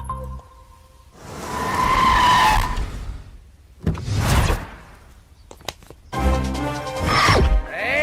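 A car pulls away with its tyres skidding and squealing in loud, separate bursts between short pauses, heard close by in a Telugu comedy film scene.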